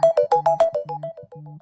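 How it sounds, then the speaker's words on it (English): A phone rings through an apartment with a loud, annoying buzzy electronic tone, a rapid repeating pattern of short pulsing bursts that runs steadily for the whole stretch with no voices over it. "Chuuya's cut off as the ringing of a phone blares through the apartment. It's a loud, annoying buzz, and Dazai knows exactly who is calling him."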